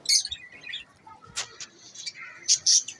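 Lovebirds in a large colony cage chirp in sharp, bright bursts, several birds calling close by with short pauses between squeaky tweets, and a faint flutter now and then.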